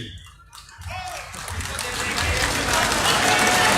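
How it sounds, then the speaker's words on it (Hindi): Clapping from a large gathering at a village mahapanchayat, starting sparse and quiet, then swelling into dense, steady applause that grows louder toward the end. "अगर ताली बजाओ तो ढंग से बजाओ"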